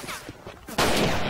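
Soldiers firing into a house in the Men of War Assault Squad 2 video game, a burst of dense, rapid gunfire that swells suddenly after a quieter moment and stays loud.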